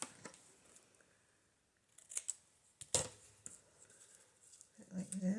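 Scissors cut small scraps of paper for a happy mail craft project, giving a scattered series of soft, close snips and clicks with light paper rustling in a quiet room.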